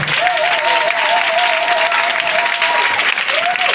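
A congregation at a Pentecost 2019 church service applauds steadily, a loud continuous wash of clapping with a sustained sung or shouted tone carrying over it.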